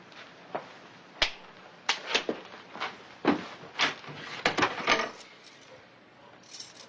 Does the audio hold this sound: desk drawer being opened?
yes